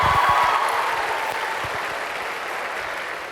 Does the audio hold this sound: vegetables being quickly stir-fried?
no